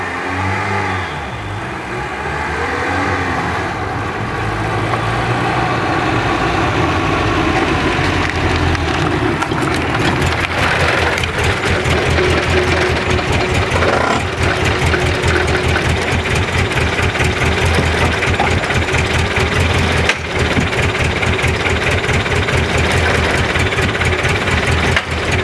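A Renault 11 fitted with a Rapid F40 carburettor idles at a very low speed, its engine running loud, close and steady throughout with a slightly uneven, loping beat.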